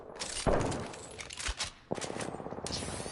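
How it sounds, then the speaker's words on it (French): Gunfire from the Apex Legends video game, played in a night mode: several bursts of rapid shots crack in quick clusters, moderately loud, with short pauses between volleys and no talking. "Quelqu'un me tire dessus."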